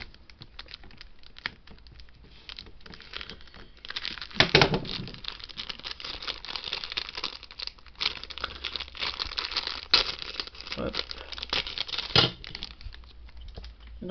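Plastic wrapping crinkles and rustles as a right half-ankle piece for an R2-D2 model kit is unpacked, a steady close crackling with a few sharper tearing bursts, no talking.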